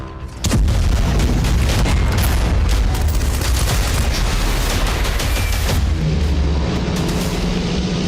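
An Indian Army M777 155 mm ultra-light howitzer fires in loud, close booms, the sharp blasts overlapping into continuous heavy rumble and crackle for several seconds with no talking.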